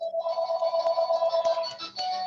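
A telephone rings during a church gathering, a steady warbling electronic trill pulsing rapidly and evenly, fairly close and clear, with faint soft clicks beneath and no one talking.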